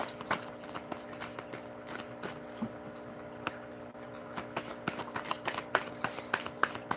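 Tarot cards being shuffled, a quiet run of soft flicking taps and riffles at close range with no talk over it.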